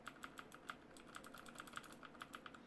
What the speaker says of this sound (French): C'est des switches bleus qui sont dessus, donc écoutez le bruit que ça fait.